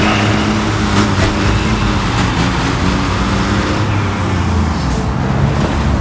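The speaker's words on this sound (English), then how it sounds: "we're going to go ahead and pull the dump truck out, because we're going to need that one" A dump truck drives in the Construction Simulator video game. Its loud, steady engine drone holds near and constant with a slight rise in pitch, and no voices are heard over it.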